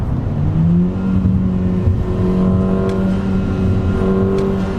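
A SEAT Leon Cupra engine hums steadily and revs up in pitch, rising and settling in loud, close, continuous bursts with no talking.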